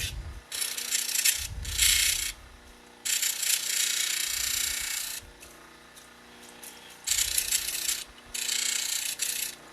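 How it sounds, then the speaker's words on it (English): An opal grinds against a soft resin diamond wheel with a close, hissing, rasping scrape that comes in repeated strokes, each a second or two long, separated by quieter spells of low wheel whir. "Now I'm just going to take it onto the soft resin diamond wheel."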